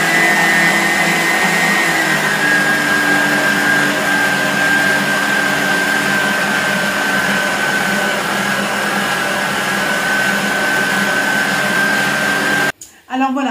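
A stand mixer kneads brioche dough at low speed, a loud steady motor whine that holds for about thirteen seconds before cutting off abruptly near the end, with no voice over it.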